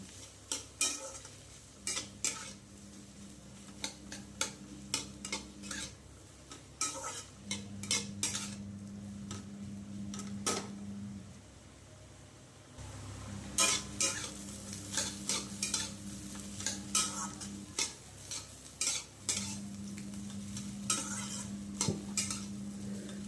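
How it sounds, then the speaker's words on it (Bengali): Snake gourd stir-fried with fried fish roe in a pan: a low steady sizzle runs throughout while a utensil scrapes and clicks against the pan in bursts of rhythmic stirring, with a brief quieter pause midway. "মাছের ডিমগুলোকে দিয়ে এটাকে হচ্ছে চিচিঙ্গের সাথে ভালো করে এটাকে মিক্স করে নিতে হবে।"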